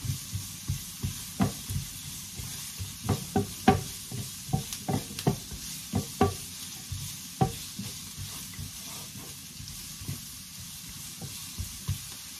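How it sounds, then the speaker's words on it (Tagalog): Onion, garlic and puree frying in a pan while being stirred, steady sizzle with repeated sharp scrapes and clacks of the utensil at an irregular rhythm, close and alone without talk. "Fry lang natin kaunti, halo-halo lang."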